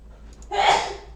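A single quick sneeze, sharp and close, preceded by a brief sharp intake of breath.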